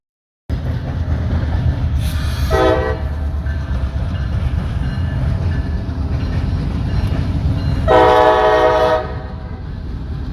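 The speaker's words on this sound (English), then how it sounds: "This train just went through a Y and turned." A heavy CSX freight train rumbles past steadily for several seconds, running long nose first, with two blasts of its horn sounding loudly over the rolling noise.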